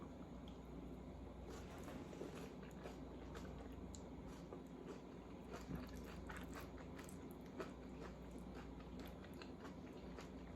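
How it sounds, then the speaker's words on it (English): Crunchy biting and chewing of a tortilla chip topped with cream cheese, close and quiet, with several sharp crunches scattered over a low steady background hum. "I am going to get a chip and try to get a little of the cream cheese"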